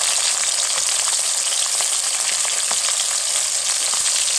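Shallots frying in a hot pan for a crab roast give a loud, continuous close-up sizzle with dense crackling spits and no pauses.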